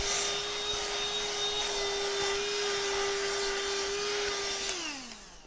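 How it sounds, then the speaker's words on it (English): A vacuum cleaner runs steadily at close range, cleaning up fabric scraps and stuffing fluff after sewing a stuffed bear, with a constant whine that winds down as it switches off at the end. "We'll just vacuum this."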